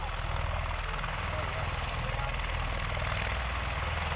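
An MV-22B Osprey tiltrotor taxies along the runway at an international air show, giving a steady, loud rotor and engine drone with a low pulsing throb that holds for the whole stretch.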